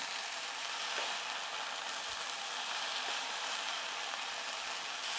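Beef pieces browning in a pot for beef and barley soup crackle in a steady, fine sizzle, fairly quiet and continuous with faint scattered pops and no speech.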